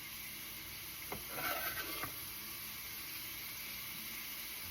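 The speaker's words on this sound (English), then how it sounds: "So I soften my onions a little bit. Then I throw in my spinach." Spinach and softened onions sizzle steadily in a frying pan, a quiet continuous hiss with a brief stirring clatter in the middle.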